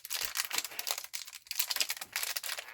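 Plastic blind-bag packaging from a Cave Club dinosaur toy being cut open and handled, giving a run of close, bright crinkling and rustling bursts with brief pauses between them, alone without talk.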